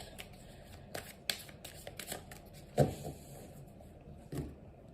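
A deck of cards being shuffled and cut for a tarot-style reading, with a steady run of soft riffling shuffles and a few sharper slaps and taps close by, no talking.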